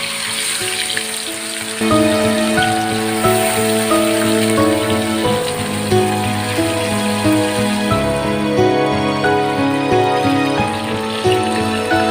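Fish frying in hot oil in a wok, a loud continuous close crackle and sizzle throughout, with steady tonal sounds running underneath.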